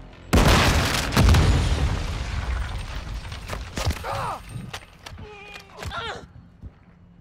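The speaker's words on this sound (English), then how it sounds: "Flash grenade." A flash grenade goes off in Call of Duty on PS5, a loud close burst followed by a long ringing wash, then scattered footsteps, gunfire and mechanical clicks with in-game voice tones.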